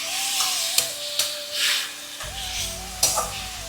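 Chopped tomato drops into a pan of frying onions, ginger and green chili for Bombay chutney, giving a soft hiss and sizzle with light clinks and scrapes of stirring.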